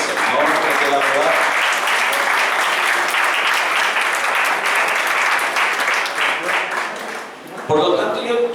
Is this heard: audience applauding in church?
yes